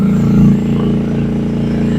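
A Rippa R10 one-ton mini excavator travels on its single-speed drive motor, giving a loud, steady engine drone with rapid rhythmic clatter from the tracks, heard up close and unbroken.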